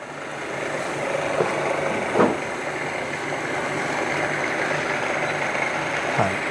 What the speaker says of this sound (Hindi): बटन दबाई और इधर फ्रीक्वेंसी बढ़ रही है, तो 50 हर्ट्ज ये मोटर चल रही है